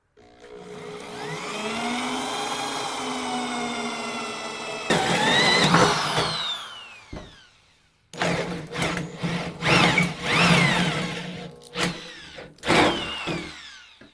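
A drill turns a 7/8 inch hole saw through a mounting panel for a soft upper adapter bracket on a Jeep half door, a whining motor ramping up, cutting in bursts with pauses, close and loud.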